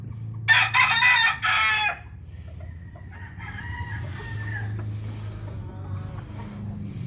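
Hen in a nest clucking and cackling loudly up close after laying an egg, a burst of squawks followed by quieter low clucks and farmyard background.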